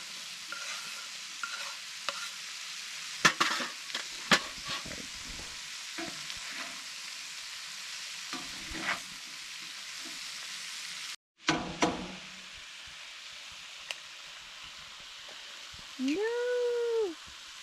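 Eggs frying in a pan at a winter camp in a frozen forest, a steady sizzle running under scattered stirring clatter and brief bits of talk.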